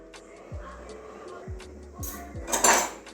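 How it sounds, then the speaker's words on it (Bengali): A metal cooking pot lid is lifted and handled, giving several close clinks and light scrapes against the pot. A short clattering rattle comes near the end. "এবারে আবারও ঢাকনাটা খুলে নিচ্ছি"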